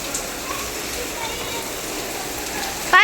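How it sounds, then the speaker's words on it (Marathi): Heavy rain pours steadily as a constant broadband hiss throughout, with a brief voice rising over it just at the very end. "किती जोरदार पाऊस आहे"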